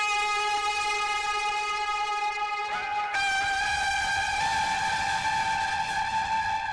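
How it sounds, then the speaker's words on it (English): A sustained, harmonically rich electronic tone from a slowed-down delay effect holds steady, then bends and shifts to a brighter pitch partway through, droning on alone with no talk. "I'm gonna give you an oscillation sound so you can kind of understand what it is I'm talking about"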